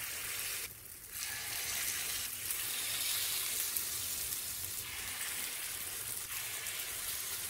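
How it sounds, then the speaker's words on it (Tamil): Paniyaram batter made from wheat flour sizzles in sesame oil in a paniyaram pan, a steady close frying crackle with brief dips as more batter is poured in. "மாவை நல்லா கலந்துட்டு ஒவ்வொரு பணியாரமாக ஊற்றிக்கலாம்."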